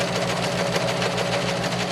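A home sewing machine stitches a 3/8-inch seam on a tank top, running steadily in a continuous mechanical whirr with a fast, even rhythm, up close and alone.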